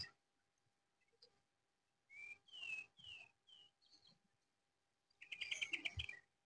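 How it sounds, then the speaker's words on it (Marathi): Birds call on a rainy, sunlit hillside: a few clear whistled chirps spaced apart, then a denser burst of rapid trills at the end, fairly faint and with no talking. "पक्ष्यांचा आवाज"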